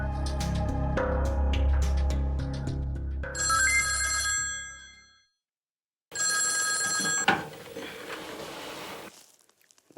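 An old-style telephone bell rings loudly in two long bursts separated by a short silence, the first over low rumbling background noise.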